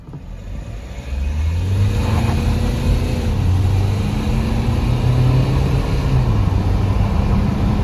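A 2018 GMC Terrain SLT diesel accelerates hard on a cool early morning, engine note climbing and dropping through gear changes, heard loud from inside the cabin with no talking.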